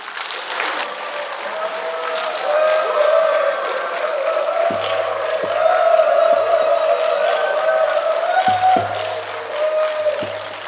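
Church congregation applauding as the pastor comes out at a Sunday worship service, steady sustained clapping from a large room filling the whole stretch, with a few low thumps and a voice briefly over it.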